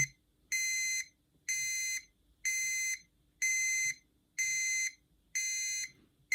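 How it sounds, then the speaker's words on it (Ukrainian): A loud electronic buzzer sounds six times in a regular pattern, each tone lasting about half a second with short silent gaps between. "Щось мені здається, що воно не перестане пищати."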